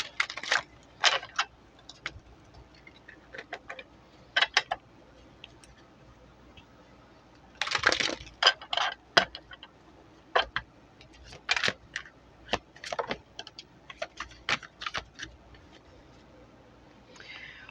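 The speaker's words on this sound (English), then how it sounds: "2 more shuffles." Playing cards are shuffled in several short, crisp riffling bursts separated by pauses, close and clear, with no talking in between.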